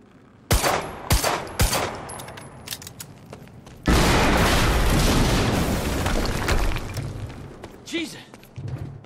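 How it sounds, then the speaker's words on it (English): A burst of sharp gunfire cracks gives way to a loud, rumbling blast that roars and slowly fades, with a voice briefly audible near the end, in the video game Quantum Break. "we just heard an explosion near the harvesting perimeter"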